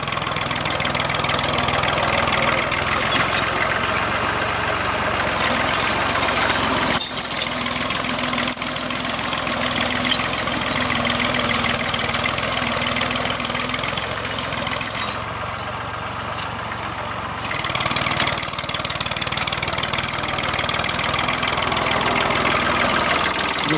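An old tractor engine runs steadily while ploughing on a mountain farm, a continuous mid-pitched knocking drone that stays loud and close throughout, dipping briefly before resuming.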